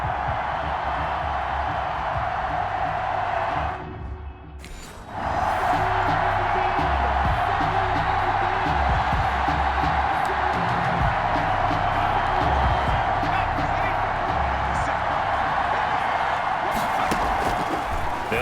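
A large stadium crowd roars steadily at an American football video game matchup between the Detroit Lions and the Cincinnati Bengals, with a brief dip before the cheering swells again under commentary.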